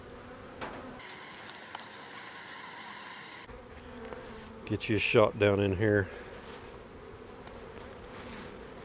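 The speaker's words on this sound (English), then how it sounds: "Talk about some bees." Honey bees swarm around an opened beehive during a honey super check, a steady buzzing drone with a brief burst of a voice in the middle.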